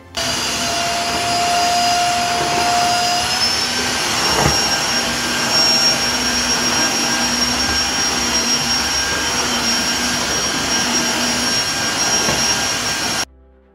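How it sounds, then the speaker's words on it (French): Tineco Floor One S3 wet-dry vacuum cleaner running continuously for about thirteen seconds while sucking up spilled coffee from a floor, a loud steady whine with a brief higher tone near the start, then cutting off abruptly at the end. "je vais tester l'aspirateur Tinko One S Floor pour voir est-ce qu'il est capable de tout nettoyer ou pas"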